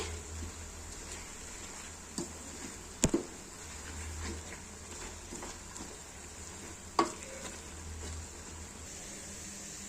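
A coconut sweet mixture with cardamom powder is stirred in a pan, giving a soft continuous scraping hiss broken by a few sharp clinks of the spoon against the vessel.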